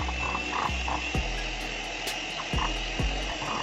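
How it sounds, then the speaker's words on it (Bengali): An electric blender whipping cream in a bowl set over ice cubes hums steadily with a continuous motor whine, broken by a few periodic clunks and ratcheting knocks as it is worked through the bowl. "মোটামুটি 5 থেকে 6 মিনিট ধরে এভাবে ব্লেন্ড করে নেবার পর খুব সুন্দর ক্রিম কিন্তু আমার বানিয়ে নেওয়া হয়ে গেছে।"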